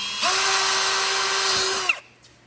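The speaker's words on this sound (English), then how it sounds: "I'll take a 1/4 inch drill bit here" A power drill with a 1/4 inch bit drilling into plastic whines at a steady high pitch for nearly two seconds, then spins down and stops, leaving quiet.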